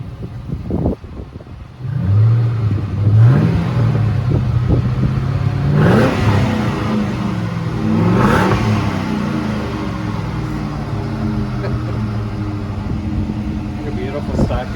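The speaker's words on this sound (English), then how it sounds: "Give it a couple good revs." Car engine from a stored classic such as a Dodge Aspen, Mustang Mach 1 or Buick Reatta, revved a couple of times through a stock exhaust, deep rising rumbles close by over idle, with people talking.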